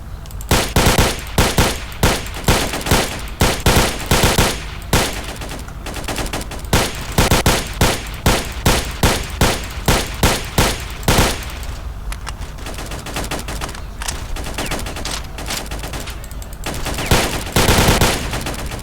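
Automatic rifle fire in the S.T.A.L.K.E.R. video game comes as loud, close, rapid bursts of shots with brief pauses between them. A denser stretch of sustained fire follows, with no talking.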